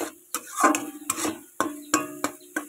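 Grated carrots dry-frying in a pan for carrot laddu, with a spoon scraping and stirring in sharp, irregular strokes over a faint sizzle, close by and without speech.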